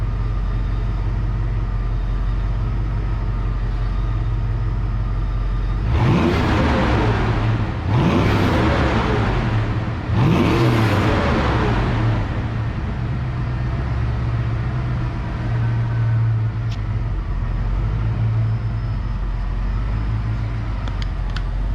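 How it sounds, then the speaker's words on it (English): A 1989 Mustang engine with a stock-style replacement muffler idles steadily, then is revved three times in quick succession, each rise and fall clear and loud, before settling back to a rumbling idle. "But I want to show you that you can rev it"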